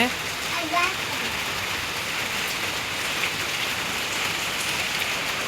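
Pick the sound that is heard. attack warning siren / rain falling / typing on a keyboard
rain falling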